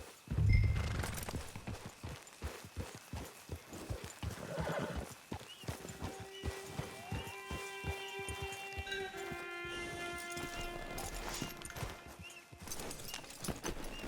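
A horse in the Western video game Red Dead Online trots with steady clip-clop hoofbeats, then gives a loud, drawn-out whinny partway through, with soft game ambience behind it.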